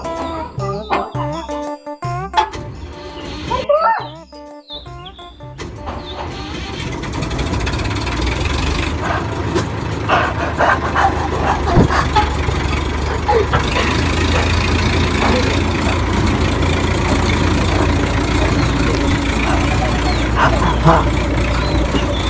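A road roller's diesel engine cranks and catches after a few seconds of voices and clatter, then settles into a steady, loud, rumbling idle that continues to the end.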